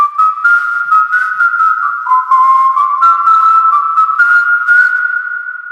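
Off-key human whistling in FL Studio before Autotune is applied: one steady whistled melody, loud and close, sliding between wavering, imprecise pitches for about six seconds without talk.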